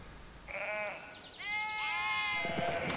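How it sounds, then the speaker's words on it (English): Several sheep bleat in quick succession while grazing at the Kelbra reservoir, close by and clear, with quiet outdoor background between the calls. "Sheep enjoy an ideal grazing area, for example at the Kelbra reservoir."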